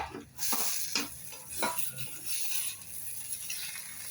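Tomatoes sautéing in a pan for egg gravy, with a spoon stirring through a soft, steady sizzle and a few sharp scrapes against the pan, close and alone without any voices.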